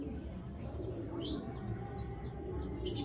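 Racing pigeons coo softly and repeatedly in a loft, with brief chirps over a steady broadband background hum throughout.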